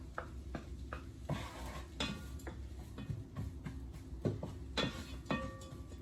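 Dry spices frying in a pan with onions for a butternut rogan josh, stirred with a utensil: soft sizzling under repeated scraping and clinking against the pan, fairly faint and close.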